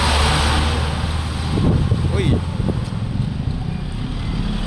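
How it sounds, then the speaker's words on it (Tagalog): Road traffic passes along a busy street, with car and motor engines making a continuous, loud, close rumble. A person talks while walking beside the traffic. "Ang ingay ng mga sasakyan."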